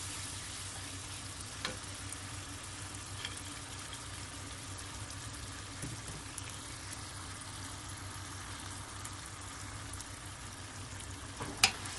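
Chopped carrots frying in a pan for restaurant-style chicken fried rice, a faint continuous sizzle with occasional soft scrapes of stirring.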